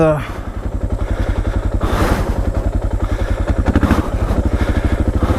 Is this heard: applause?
no